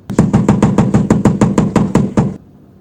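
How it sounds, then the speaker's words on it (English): A rapid, even series of about fourteen sharp metallic taps from a hammer striking a small eyelet-setting tool, close and loud, then stopping. "So after that, I usually go back in with my hammer like this"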